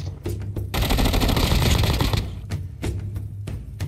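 Shotgun fire in the COD Mobile video game: two short bursts, then a loud sustained rapid volley lasting over a second, followed by several separate sharp blasts, close and alone without talk.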